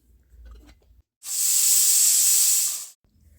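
A pressure cooker boiling soaked rajma lets out one loud, steady steam hiss that lasts about two seconds, with quiet moments before and after it.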